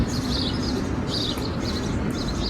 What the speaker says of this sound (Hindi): कितनी बढ़िया आवाज आ रही है चिड़ियों की चहचहाने की है